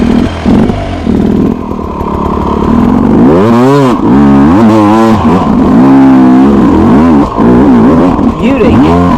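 A dirt motorcycle ridden hard through corners, its engine revving and swooping up and down as the rider holds the revs high on the clutch. The sound is loud and close, with wind noise and a brief clatter.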